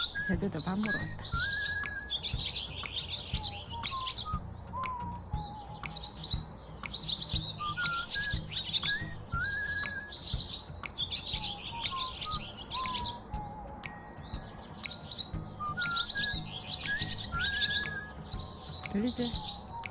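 Feeding birds in a blossoming spring yard keep up a continuous run of bright, rapid chirps, overlaid by repeated short whistled calls from close by, with a soft low hum underneath.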